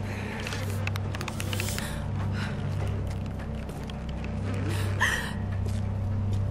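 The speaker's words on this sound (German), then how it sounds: "Wie laut eigentlich Lara atmet." Lara Croft breathing heavily in the video game Tomb Raider, with repeated audible gasps and breaths over a steady low game hum, and one sharper intake near the end.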